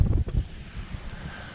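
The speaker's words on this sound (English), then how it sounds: "I hate windy days." Gusty wind buffeting a GoPro microphone outdoors beside a 6x6 Land Rover Perentie, low rumbling bursts that are strongest at the start and then settle into a steadier blustery roar.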